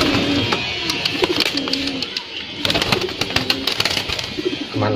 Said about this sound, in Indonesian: merpati telo kalau lagi giring nggak bisa kontrol ke betinanya langsung karena nggak pernah diolahragain nih